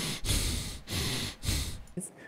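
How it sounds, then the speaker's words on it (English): A person breathes heavily and audibly close up, with several loud rhythmic inhales and exhales in a row. "do you hear her breathing?"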